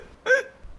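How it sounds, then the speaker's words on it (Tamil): A single short, sharp hiccup, close and clear, in a quiet indoor setting. "என்னடா தண்ணி குடிச்சும் உனக்கு இன்னும் விக்கல் நிற்கவே இல்லை."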